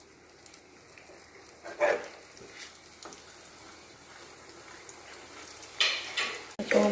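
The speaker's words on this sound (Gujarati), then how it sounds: "હવે તળી લેવાની છે રોટલી." Roti (bhakhri) frying in hot oil gives a faint, steady sizzle, with a few louder crackles and bursts near the start and end.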